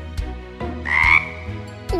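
A cartoon frog from the Cry Babies Magic Tears series croaks in a few close, loud, throaty bursts, one rising into a drawn-out ribbit.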